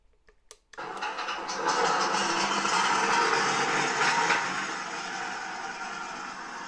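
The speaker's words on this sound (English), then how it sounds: "Turn on the tank. What we'll do is just, this is going to get a bit noisy." A click, then a simulated tank engine from the sound card of a 1/6 scale Armortek Hetzer Jagdpanzer 38 model fires up and settles into a loud, steady, rumbling idle.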